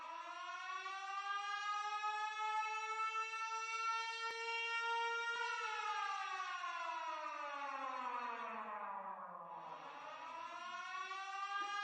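A steady, loud electric planer motor whine, a Rebir 5708M, with a rising and falling pitch, droning continuously like a siren with no voices present.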